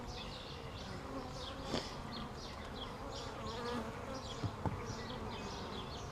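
Honeybees buzz steadily around an opened top bar hive during a spring split, a dense droning hum with occasional closer passes and faint handling knocks.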